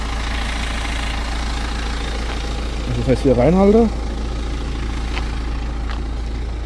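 A BMW car with a sport exhaust idles in a steady, low, loud rumble that runs throughout, with someone speaking briefly over it.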